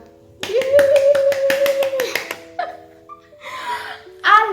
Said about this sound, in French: Est-ce que tu peux applaudir pour toi?